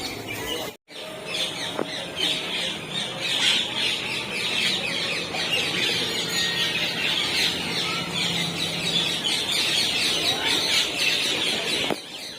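Birds, likely the pigeons that temple visitors feed, call and flutter at a temple beside the Machhu river near Morbi. A dense, steady bird chorus runs through the whole stretch, with a brief dropout near the start.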